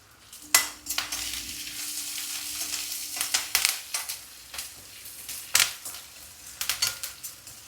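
Onion, green chilli and curry leaves sautéing in a pan, a soft sizzle broken by repeated sharp scrapes and clacks of a spatula stirring, close and fairly loud.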